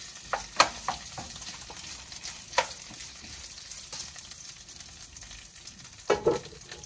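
Cooking oil sizzles steadily in a pan as meat renders its fat, a continuous frying hiss broken by occasional sharp pops and spatters, heard close with no talking.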